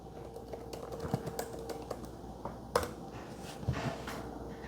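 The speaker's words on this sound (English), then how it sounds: "because I was typing" Steady typing on a computer keyboard, quick irregular key clicks with a few heavier strokes, close but fairly quiet over a low background hum; no voices.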